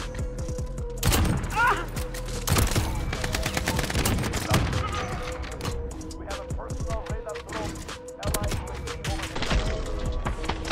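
Kar98k sniper rifle shots crack out sharply in Modern Warfare, with several loud single reports and other gunfire among them, and a voice talks over the action.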